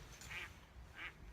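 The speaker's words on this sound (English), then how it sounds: "It was a duck quacking." Two short duck quacks, about half a second apart, sound faintly at a distance over a low, steady background hum.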